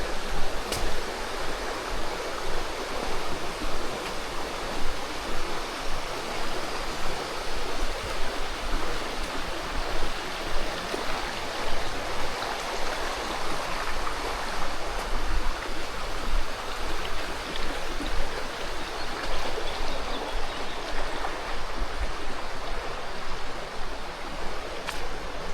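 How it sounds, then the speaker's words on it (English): A stream in Sheffield rushes and splashes steadily throughout, a dense, continuous broadband wash of moving water with small fluctuations, fairly close and with no voices. "you can hear the water kind of moving around all over the place at certain points"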